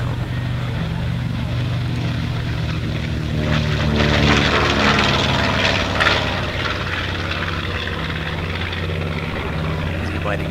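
A WWII warbird propeller plane rolls for takeoff at Deer Valley Airport, its piston engine droning loud and steady with a rising roar midway, close by throughout.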